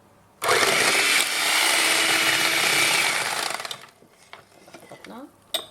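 An electric mixer whips egg yolks and butter together for a keto bundt cake, a steady loud whir lasting about three seconds before it cuts off, followed by quieter bowl clatter and faint handling noises.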